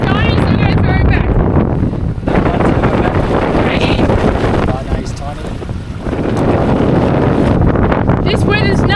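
Strong Meltemi wind buffets a sailboat crossing the Aegean, a loud continuous roar of gusts blasting the microphone with water and rigging noise throughout, easing briefly midway before surging back.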